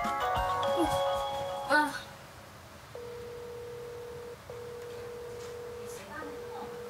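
A phone ringback tone repeats in steady, evenly spaced beeps after some brief voices and clatter at the start, with no one answering.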